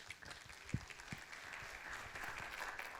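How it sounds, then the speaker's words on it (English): Audience applause for a speaker at a mental health and addiction expo, a steady wash of many hands clapping at moderate distance, building slightly and continuing throughout with a couple of louder thumps near the start. "So please give her a round of applause."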